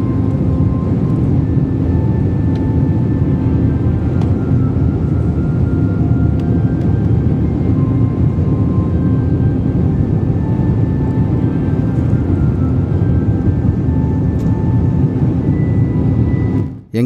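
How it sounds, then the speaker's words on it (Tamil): Inside an airliner flying from Chennai and making a U-turn to land at Singapore, a loud, steady engine and cabin drone runs unbroken for the whole stretch and ends with a brief knock. "ஃப்ளைட் லேண்டிங்காக யூடர்ன் போடுறது தான் இப்போ நீங்கள் பார்க்குறீங்க"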